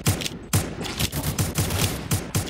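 Rapid bursts of gunfire from a Roblox first-person shooter game, several sharp shots in quick irregular succession, loud and close throughout.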